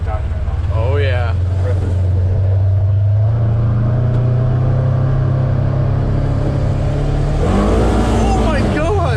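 A 2009 Honda Accord V6 revs hard at high RPM, a loud sustained engine drone that climbs and holds before surging again near the end, with people talking and exclaiming over it.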